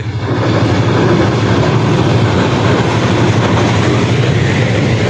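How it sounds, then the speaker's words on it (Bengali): A train bound for Tangail thunders past close by, a loud, continuous roar with rhythmic wheel clatter that fills the whole moment without any talk. "ওই যে গাজীপুরের টাঙ্গাইল যাওয়ার ট্রেন আইসা পড়ছে"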